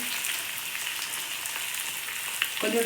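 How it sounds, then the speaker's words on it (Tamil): Curry leaves and grated coconut sauté lightly in a pan for curry leaf chutney, giving a steady soft sizzle throughout with a few brief clatters near the end, no voices. "கொஞ்சம் லைட்டாக ஒரு 2 நிமிஷம் வதக்கினா போதும்"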